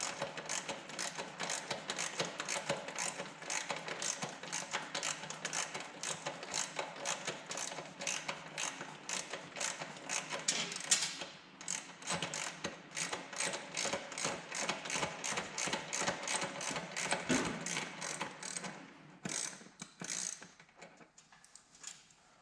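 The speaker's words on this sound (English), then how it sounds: "Seat bolts up from the bottom, from underneath here. Got my Whitworth sockets here." A Whitworth socket ratchet loosening the seat bolts on a 1965 BSA motorcycle, giving rapid, continuous clicking in quick strokes with a few short pauses, close and moderately quiet.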